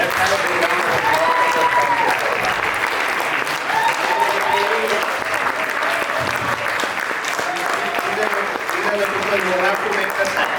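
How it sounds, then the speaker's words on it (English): Sustained applause from a large crowd at a volunteer appreciation event, steady and dense throughout, with cheering voices mixed in underneath. "Let's have a big round of applause."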